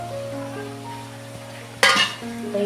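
Ground pigeon peas (toor) stirred in a hot pan for a spicy amti, with a steady soft sizzle, then a sudden louder scrape and burst of frying noise partway through as the paste is turned over.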